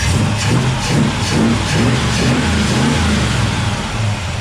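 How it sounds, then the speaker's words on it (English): A Ford 351 Cleveland V8 engine revs up and settles in a loud, steady rumble, with the throttle rising and falling in a few gentle pulses and no voices over it. "So let's give it a bit of a rev now and hear the response."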